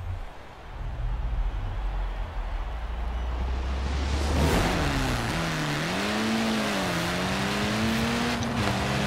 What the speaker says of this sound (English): So let's fully gas the car now